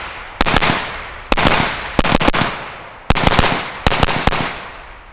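Five quick strings of suppressed shots crack from an LMT 5.56 rifle fitted with an ION K suppressor. Each burst of two to four sharp reports is loud and close, separated by short pauses, with no talk.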